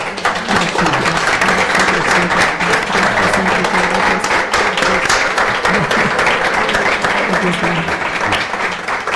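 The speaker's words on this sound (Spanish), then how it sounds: "vamos a darle un aplauso fuertísimo" Loud, sustained applause from an audience at a book presentation of a poetry collection at a literary event, dense clapping filling the whole stretch with some voices mixed in.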